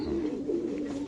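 A racing pigeon with a BRPL leg ring gives a low, continuous rolling coo close by at a pigeon farm, steady throughout with no talk over it.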